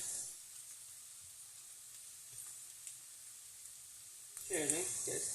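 Vegetables such as dried tomatoes, peppers and aubergine sautéing in a pan, a quiet steady sizzle that swells louder near the end as they are stirred.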